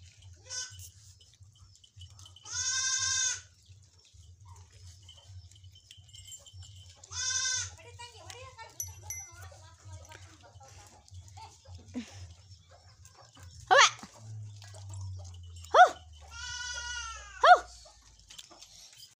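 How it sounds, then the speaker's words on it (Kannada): Goats bleat several times, loud wavering cries spaced apart over a low rumbling hum, with a few scattered clicks and bumps between calls, at a house just after rain. "ಹಿಂಗಾಗಿ ನೋಡ್ರಿ ಆಡುಗಳೆಲ್ಲ ಮನೆಗೆ ಬಂದು ಓಡಿ ಮಳ್ಯಾಗ"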